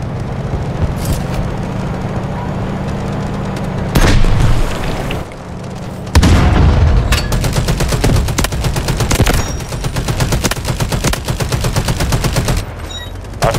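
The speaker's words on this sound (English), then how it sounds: "Artillery cover coming." Heavy booms of artillery explosions and rolling bursts of rapid gunfire from the video game Delta Force, loud and dense, with deep impacts breaking up sustained machine-gun rattle throughout.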